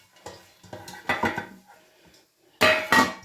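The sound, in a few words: baking pans being oiled with a brush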